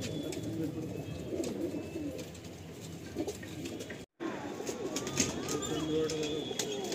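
Pigeons coo and flutter inside a Madrasi pigeon loft in Howrah, a steady close chorus of low murmuring calls with a brief dropout midway, and someone talks over them.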